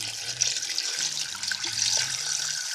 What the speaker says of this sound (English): So I'm going to add one more. That's 12 cups of water.